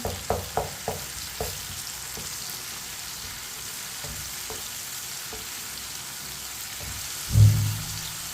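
Tomatoes frying over medium heat in a pan for white chana, a steady sizzle with a quick run of spoon taps at the start and a heavier thud near the end.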